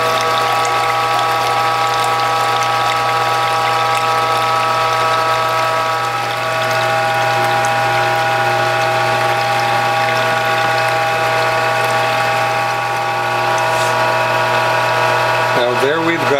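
A Whole Food Health juicer grinds French sorrel with turmeric, garlic and ginger, a steady close mechanical whir with ratcheting gear rattle and a clattering shift near the end, running continuously without pause.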